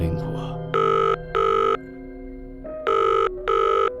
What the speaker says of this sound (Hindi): फोन रिंग हुआ।